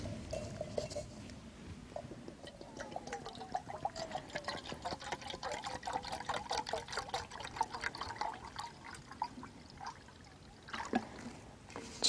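Half a liter of water pours into a Jetboil Minimo camping stove pot in a steady, close trickle with small splashes and gurgles that shift in pitch as the pot fills, continuing for about twelve seconds without talk.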